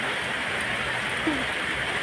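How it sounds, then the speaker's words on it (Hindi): Steady rain patters down on an open rooftop as a continuous, even hiss of drops with no breaks, evenly loud throughout. "लेकिन बारिश बहुत ही अच्छा हो रहा है"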